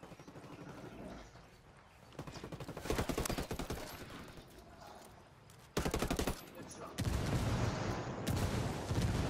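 Bursts of hip-fired gunfire in a Ghost Recon Wildlands PvP ranked match, irregular rapid volleys that grow louder and denser, with heavy sustained shooting near the end.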